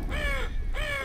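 A crow caws twice in Half-Life 2, two harsh, drawn-out calls separated by a short gap, loud and close over a steady low ambient rumble.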